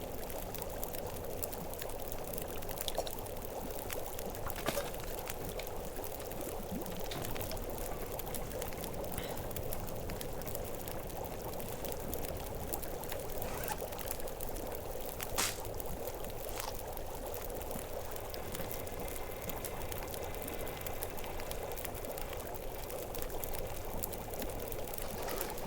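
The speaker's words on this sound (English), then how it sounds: "I'm boiling that water off" Water boiling in the survival game The Long Dark makes a steady, even bubbling hiss that continues without a break for the whole stretch, with no one talking over it.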